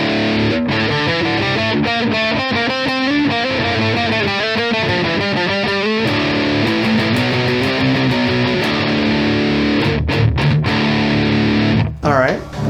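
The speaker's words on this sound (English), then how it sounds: "a little bit of a refresher on what the Metal Zone sounds like normally" An electric guitar through a Boss Metal Zone distortion pedal plays chugging riffs and sustained chords, loud and saturated, ending in a brief squealing slide.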